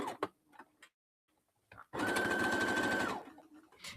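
Sewing machine stitching a zipper pencil pouch: a few soft handling clicks and taps, then a close, steady mechanical whir of rapid stitching for about a second, stopping abruptly.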